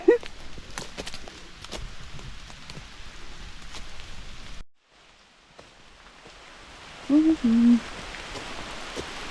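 Steady rain patters on surfaces in a forest with scattered heavier drops, cutting out briefly midway before resuming, with a couple of short tonal chirps near the end.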